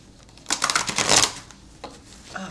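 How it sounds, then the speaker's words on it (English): Tarot cards being shuffled by hand, a brief riffling burst of papery flutter and slaps that peaks then fades into a few scattered card taps, close and moderately loud. "Oh man, that was a bad shuffle."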